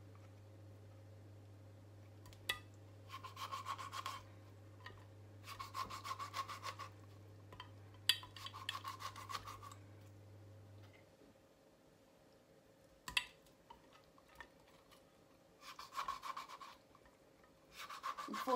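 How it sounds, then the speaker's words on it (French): A knife saws through fish in several short, scraping bursts of rubbing strokes separated by pauses, quiet and close, with a low steady hum under the first half. "I'm going to cut the fish"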